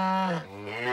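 Cartoon cows moo in a long, loud, drawn-out low call that dips midway and rises again, heard alone without talk.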